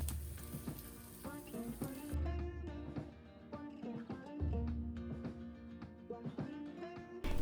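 Chicken kheema paniyaram sizzling and crackling in oil in a pan, a steady close fry with scattered pops and spits throughout.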